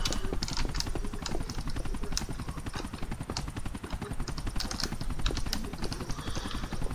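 Helicopter in Grand Theft Auto IV, a steady, loud rapid rotor chop that pulses throughout without a break and sits close to the listener, with no talking over it.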